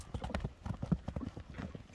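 A ridden horse's hooves clip-clop in a quick, uneven rhythm, close by and fairly quiet, with no talking over the steps.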